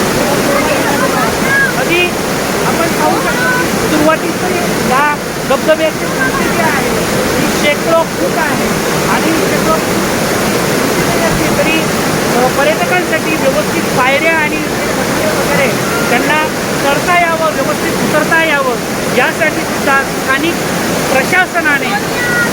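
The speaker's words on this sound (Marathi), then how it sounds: "आपण बघूया हा मुख्य धबधबा कशा पद्धतीने" Main waterfall at Amboli ghat in monsoon season, a loud, steady roar of rushing water that stays constant throughout with no pauses.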